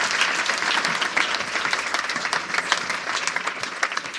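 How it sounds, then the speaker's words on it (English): An evening event audience gives Sophie a warm round of applause, many hands clapping steadily and fairly close, with the clapping holding strong throughout. "Let's give Sophie a round of applause."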